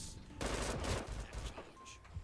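In the video game Brink, a machine gun nest fires a dense, rapid burst that dominates the first half, then tapers into scattered shots and game noise.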